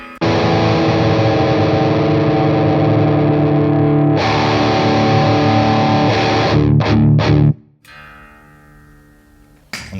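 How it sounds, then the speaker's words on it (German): A high-gain electric guitar played through a Victory Sheriff 44 amp gives a loud, thick distorted tone. Sustained chords ring out, then short stabs follow, a pause, and a final strum. "Da merken wir, dass das so langsam in diese eher 80s Hot Rodded Marshall Gefilde vordringt."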